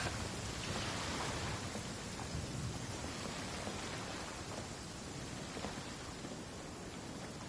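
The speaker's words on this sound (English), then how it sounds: "Since when does it actually rain in the towns?" Steady, dense rainfall in the Genshin Impact video game, a continuous wash of falling rain with faint droplet ticks, evenly loud throughout with no voices.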